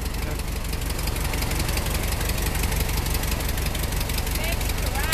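Ford Model T engine running during a ride, a loud, steady, rough knocking chug that continues evenly throughout, close and unbroken.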